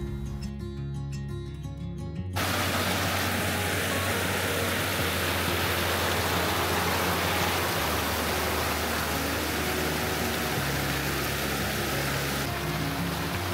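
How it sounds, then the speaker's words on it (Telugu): A mountain stream flows in Rocky Mountain National Park, giving a loud, steady rushing of water that continues without a break. A low rumble runs beneath the rush, and no one speaks over it. "అసలు ఈ మౌంటైన్స్ మీద ఈ వాటర్ సౌండ్ అయితే చాలా సూతింగ్ ఉంది."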